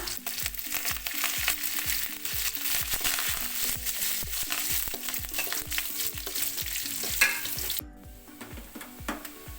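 Red chillies and curry leaves frying in oil for a dal tempering, a loud close sizzle with a rapid rhythmic beat throughout, cutting off abruptly near the end, no voices.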